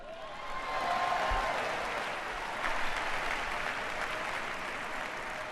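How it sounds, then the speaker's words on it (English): Convention crowd applauding Bill Clinton's speech, a dense sustained wash of clapping that swells in and holds steady, loud and continuous with no voices on top. "And that got a big response from the crowd."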